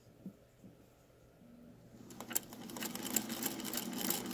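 A Singer Featherweight sewing machine with a quarter-inch foot starts up after a quiet moment and stitches fabric, a steady close mechanical whirring and rapid ticking that grows louder, no voices.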